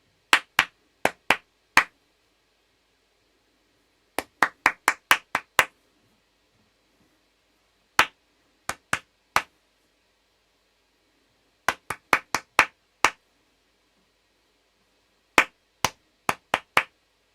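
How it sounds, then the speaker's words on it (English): Hands clap out short rhythmic patterns in separate bursts, with sharp claps grouped in quick phrases and short pauses between them. The claps are close and clear against a quiet background, with no talking. "So I'm going to clap a rhythm, and you clap it back."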